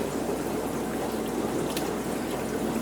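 Water trickling and pouring steadily into a fish breeding tank as fish are dropped in, a close continuous splashy wash with no talk.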